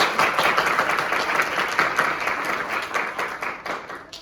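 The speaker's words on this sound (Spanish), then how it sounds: "Un aplauso para la Julia." Applause at a panel event on sex education in Chile: loud, close crowd clapping, dense and continuous, tapering slightly toward the end.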